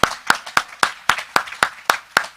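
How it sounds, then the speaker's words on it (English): A round of clapping at an annual commission luncheon, close and crisp. About nine sharp, evenly spaced claps sound alone at a steady, brisk rhythm, with no voices over them. "We all need to give her a round of applause."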